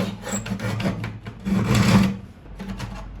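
Rhythmic rasping strokes of a sanding block rubbing against the wooden body of a bağlama, close by, in repeated back-and-forth passes.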